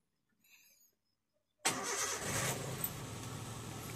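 A hot car engine with high timing, a shaking fault and an oil leak fires up after a brief quiet pause with a sharp crank and catch, then settles into a loud, rough, steady idle close by.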